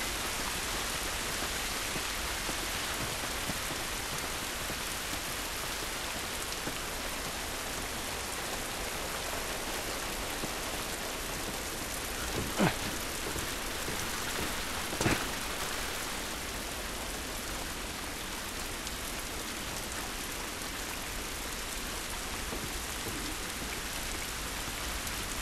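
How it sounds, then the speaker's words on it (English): Steady heavy rain pours in the video game The Last of Us Remastered, a dense, even hiss for the whole stretch with two brief sharp knocks midway and no voices. "It's raining, but it isn't good."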